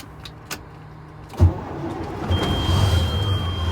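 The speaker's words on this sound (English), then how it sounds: "I'm going to go ahead and start my truck." A truck's engine cranks and catches after a small click, then settles into a steady low idle with a faint high whine above it, close by in a cab with no talk.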